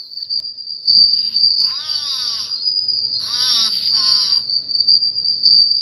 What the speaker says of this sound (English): The crickets need to shut up!